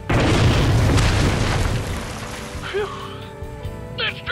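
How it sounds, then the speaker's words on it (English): A tank cannon fires in a Red vs Blue animated battle, a loud booming blast with a long explosive rumble that fades into lighter debris and clattering, and a brief voice cuts in near the end. "And here's a tank operated by Caboose."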